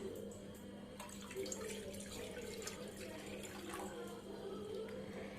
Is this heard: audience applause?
no